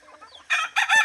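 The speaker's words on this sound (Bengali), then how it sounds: "রৌদ্র উঠছে, মুরগিগুলো ছেড়ে দিলাম" Egyptian Fayoumi chickens let out into the morning sun after a wet night make loud, close clucking and crowing-like calls in two bursts after a faint start.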